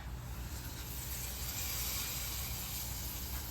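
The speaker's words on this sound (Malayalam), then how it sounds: "കടുക് വറുത്തത് ഇതിലേക്ക് ഒഴിക്കാം" Hot mustard-seed tempering poured into a dried prawn and mango curry gives a soft, continuous hiss and sizzle that holds at an even, fairly faint level throughout.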